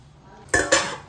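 A metal lid set onto a pot of cooking green sorrel leaf dal: two sharp, close clanks in quick succession after a quiet moment, the second ringing briefly.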